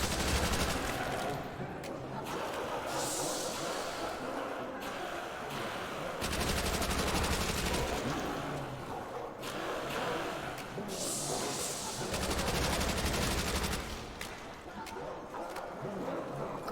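Rapid automatic gunfire from a Thompson submachine gun and other weapons in Call of Duty: World at War Zombies on the Nacht der Untoten map, dense and loud with almost no gaps, while a voice talks over it.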